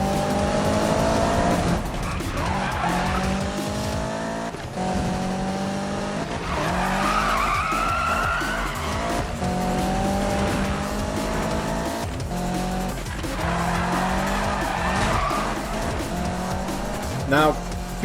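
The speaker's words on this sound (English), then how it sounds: "you can do some really big high-speed drifts" Car drifting at high speed in Need for Speed 2015, with a steady engine roar and long tire squeals running throughout, under continuous talking.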